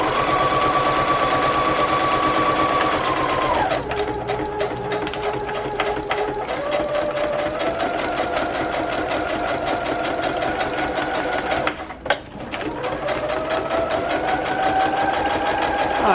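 A sewing machine runs steadily and loudly while stitching straight down and around a junk journal page. Its motor whine shifts pitch as the speed changes, with a brief pause near the end before the stitching resumes.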